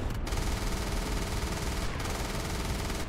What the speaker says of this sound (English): Artillery barrage coming in.